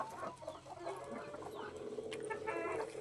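Country chickens on a small farm cluck softly and repeatedly, a faint scatter of short calls close by with no talk over them.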